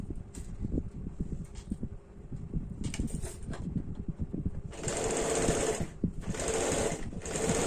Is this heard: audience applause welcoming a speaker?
no